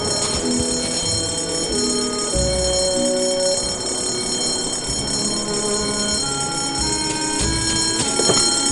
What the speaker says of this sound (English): The fire alarm is not a toy, Mr. Threepwood.